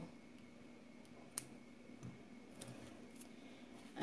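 Scissors snip nylon thread, a few faint, light clicks spaced apart in a quiet room.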